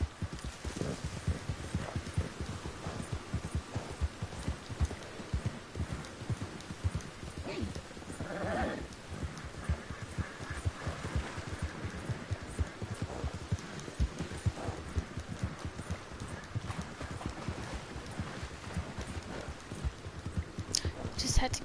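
Horse hooves clip-clop at a steady walking rhythm in Red Dead Redemption 2, continuous and moderately close, with a voice talking over them.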